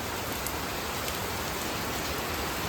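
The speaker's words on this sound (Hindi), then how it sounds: "ये देखो, क्या बारिश हो रही है भाई।" Steady rain pouring down on a morning in a village setting, a dense, even hiss of drops on surfaces, close and continuous without any voices.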